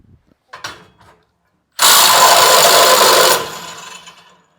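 A Milwaukee impact wrench hammers a stubborn fastener loose, a loud rapid rattling burst lasting about a second and a half after a few short preliminary clicks, then tapering off as it spins down.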